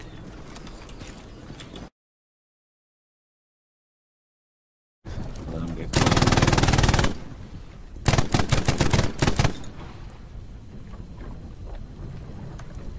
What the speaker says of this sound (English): MG42 grinding again.